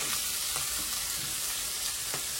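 Onions frying in a pan for a potato dish, a steady dense sizzle filling the space with faint crackles throughout, close and continuous with no talking.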